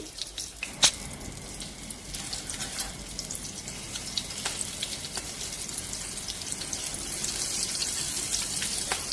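Slit green chillies fry in hot oil in a kadai, giving a soft, steady sizzling hiss with occasional sharp pops, faint and continuous with no voices.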